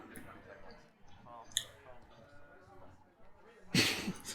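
A player riffle-shuffles a card deck during a Game of Thrones card game tournament match, a short crisp burst of rapid card flutter near the end while commentators talk.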